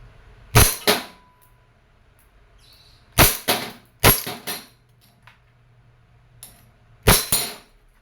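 A silver WE Airsoft M92 pistol fires four sharp, loud shots spaced a second or more apart, each crack followed by a quick mechanical clack of the slide, with quiet gaps between.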